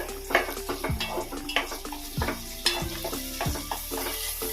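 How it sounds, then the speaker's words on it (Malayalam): Tomatoes sizzle and sputter in a hot pan as a spatula scrapes and knocks repeatedly against the metal, close and busy. "തക്കാളി കൂടി ചേർത്ത് നന്നായിട്ട് വഴറ്റാം."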